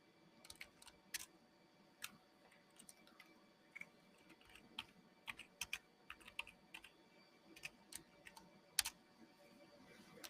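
Slow, irregular keystrokes clack on a computer keyboard, soft individual taps with occasional louder hits spread unevenly over a quiet room background, with no one speaking.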